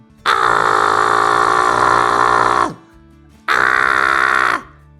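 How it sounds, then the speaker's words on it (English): A human voice makes a false cord scream in head voice, a harsh, raspy squawk like a bird's caw, heard as two loud, close sustained bursts separated by a short pause. "this sound right there, that weird funky sound, is actually the sound of your false chords vibrating"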